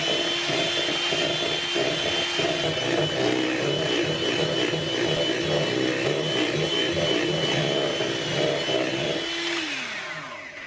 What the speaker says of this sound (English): now we will whisk the cream until we've got thickened cream